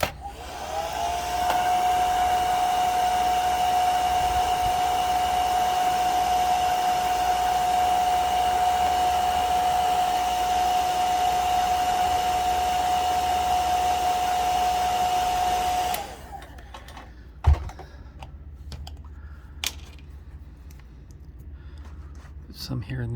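A hair dryer blows steadily for about fifteen seconds on a freshly painted 1987 G.I. Joe toy vehicle, then cuts off, leaving a quiet room with a few small handling clicks and taps.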